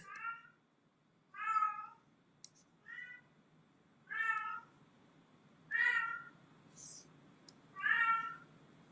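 A cat meows six times at evenly spaced intervals, each call drawn-out and clear against a quiet, faintly humming room.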